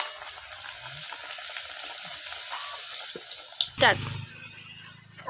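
Pieces of methi vadi fry in hot oil with a soft, steady sizzle, fairly faint. A brief louder splash-like burst comes near the end. A person talks over it.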